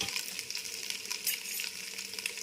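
Coconut and ginger-garlic paste frying in oil for paneer pulao, a continuous close hiss of sizzling with light crackle and no pauses or voices.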